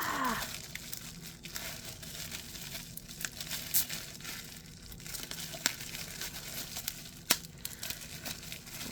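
Close crinkling and crackling of bubble wrap being unwrapped, with irregular sharp snaps and rustles continuing steadily throughout.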